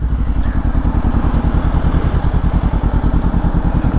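A Honda CB500X motorcycle idles at a traffic light in Shanghai evening traffic, its engine throbbing in a loud, close, rapid and even pulse for the whole stretch, with no talking.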